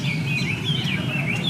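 A songbird at an outdoor bird cafe in a Saigon park sings a thin, warbling run of high chirps and whistles, steady and moderately near, over a low background murmur.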